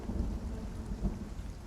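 Thunderstorm with lightning in the video game Spiritfarer: a continuous low rumble of thunder over steady heavy rain, loud and close, with no talking.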